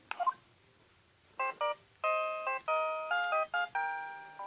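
Cell phone being dialed in the Phoenix Wright: Ace Attorney Justice For All game: a short chime, then a series of electronic keypad beeps in uneven bursts, clear and alone.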